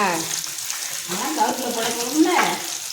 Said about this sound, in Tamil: சின்ன வெங்காயம். சரியா? நன்றாக வதக்கி கொள்ளவும்.